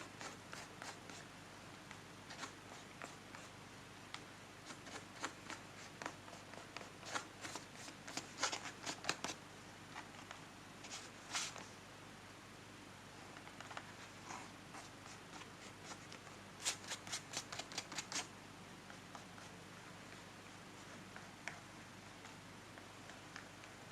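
A hand strokes and rubs paper in an art journal, producing soft intermittent brushing and rustling strokes, some in quick clustered bursts, close and fairly quiet with no talk.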